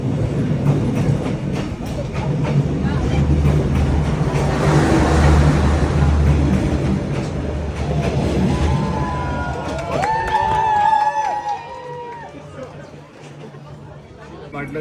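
A train rolls past at very close range along the narrow Hanoi train street, a loud rumbling, clattering roar that swells and then eases. Bright horn-like tones sound near the end, with voices and a crowd mixed in.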